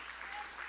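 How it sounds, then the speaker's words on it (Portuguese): A church congregation applauds during a sermon, a brief burst of dense, close clapping that fills the moment. "Gente, aplauda a palavra do Senhor bem em nome de Jesus"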